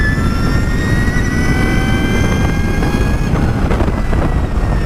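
Energica EGO electric motorcycle ridden in normal mode, a loud steady whine of rising and falling tonal motor pitches layered over heavy wind rush throughout.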